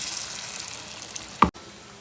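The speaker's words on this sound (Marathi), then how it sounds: "गॅस बारीक करून छान असं सोनेरी कलर येईस्तोपर्यंत आपण वडे तळून घ्यायचे." Potato vadas deep-fry in oil over a low flame with a steady, close sizzle, broken near the end by a single sharp clatter and a brief drop to near silence before the frying resumes.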